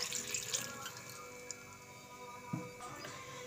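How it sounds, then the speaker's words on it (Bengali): Water poured into a pot on a gas stove over raw jackfruit pieces for boiling in a village-style kitchen, a soft steady trickle and splash with faint drips, fairly quiet and without talk. "জল দিয়ে দেব।"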